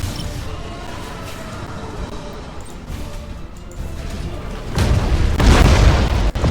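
Explosive blast in a Tyranids tabletop wargame session, a low booming rumble that builds and crashes louder toward the end, with a sharp crack near the close.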